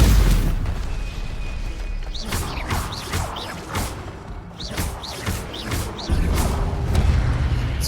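Spell effects and combat from a Harry Potter video game, including an Incendio fire spell, with a series of whooshing bursts and dull thuds over a busy rumbling backdrop, steady and fairly loud throughout.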